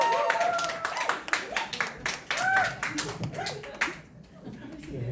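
Audience clapping scattered across the room to welcome a diet lecturer on stage at an orientation and diet seminar, irregular claps with a voice briefly over them before fading near the end.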